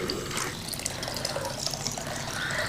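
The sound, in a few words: water poured into pot for cooking wheat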